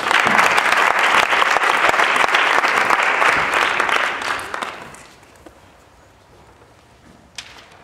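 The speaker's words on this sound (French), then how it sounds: "je vous prie d'écouter et d'applaudir Julie Morvan" Audience applause for a speaker at a student debate contest: dense, loud clapping for about four and a half seconds, then tapering off to near silence with one brief knock near the end.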